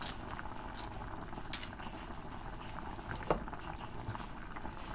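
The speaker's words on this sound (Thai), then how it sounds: "เดือดแล้วค่ะ" Curry broth with watermelon rind bubbles at a steady boil in a pot, a dense continuous simmering hiss broken by occasional louder pops and plops, close by and with no voices.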